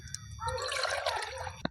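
Water is poured into a clay pot while mustard greens are being cooked, giving a steady close splashing gurgle that runs for most of the moment before a brief knock near the end.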